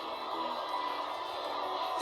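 A dense, steady wash of crowd noise filling a video game fighting arena, broad and sustained without distinct peaks, with faint talking mixed in.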